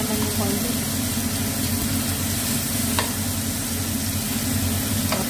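Tomato frying in a little oil in a pan for sinigang with corned beef, a loud steady sizzle with occasional utensil clicks, while a person talks over it.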